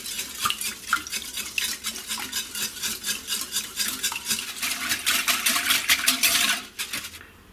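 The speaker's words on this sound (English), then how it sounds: "Now whisk this until it's well combined." Eggs and vanilla extract for a custard tart filling are whisked in a bowl, giving a steady, rhythmic run of close metallic clicks and sloshing strokes that continue without pause.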